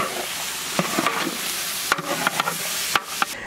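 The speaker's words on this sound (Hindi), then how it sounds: "मटन ऐड करके अच्छी तरह मिक्स करे" Mutton being stirred and mixed in a pot for biryani, with a steady sizzling hiss and scattered scraping knocks of the spoon against the pot, close and alone.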